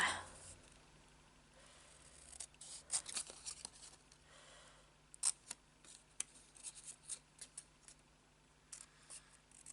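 Scissors snip through a stamped paper card in a run of short crisp cuts, some clustered and some spaced apart, close and fairly quiet over a low steady hum, with no talking.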